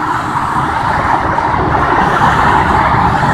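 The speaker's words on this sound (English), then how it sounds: "This is the 5 freeway" Southbound traffic on the 5 freeway, a loud continuous roar of cars and trucks with steady road and tire noise and no pauses.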